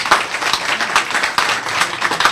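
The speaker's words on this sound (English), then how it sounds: "And that deserves a round of applause." A live audience breaks into continuous applause, a dense wash of many hands clapping at steady loudness throughout, with no voices standing out.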